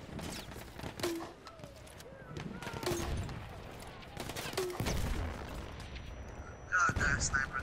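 Sniper and rifle fire in an Argon video game match cracks out in scattered sharp shots amid a busy battlefield, with players' voices chattering and a burst of louder firing near the end.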